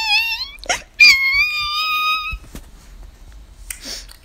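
A human voice imitates a dog whimpering: two drawn-out, high, whiny cries close to the microphone, followed by softer breathy sounds and a few small knocks.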